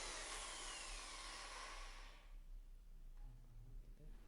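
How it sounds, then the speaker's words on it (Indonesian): Power drill boring a hole into a wall while mounting a wall-fixed table, a loud steady grinding whir for about two seconds that then cuts off, leaving faint low rumbles and small knocks. "kita bisa melakukan gerakan memutar sambil mengebor untuk memastikan lubang yang kita buat di dinding itu tidak terlalu kecil"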